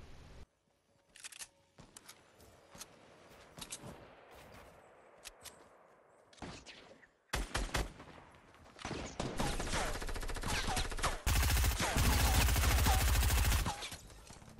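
Video game gunfire crackles in scattered sharp shots early on, then builds into loud, continuous bursts of rapid fire that fill the second half before cutting off abruptly.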